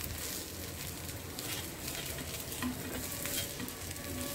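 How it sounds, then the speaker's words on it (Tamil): Tawa idli coated in spice powder frying on a flat griddle, a steady close sizzle with light stirring scrapes and no talking. "இந்த மசாலாஸோடு நல்லா டீப் ஃப்ரை ஆகணும்."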